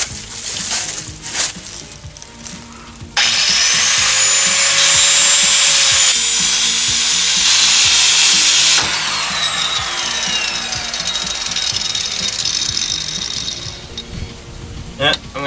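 A cutoff disc grinds through a steel angle piece on a 1975 International Loadstar truck, a loud, harsh screeching whine for several seconds that trails off as the disc winds down, with shop clatter before and after.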